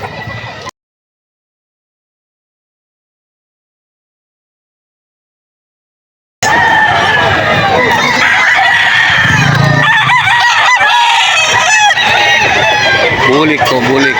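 A bull stag rooster crows repeatedly at the Bocaue pet market amid loud crowd chatter and clucking, after a few seconds of dead silence where the sound drops out.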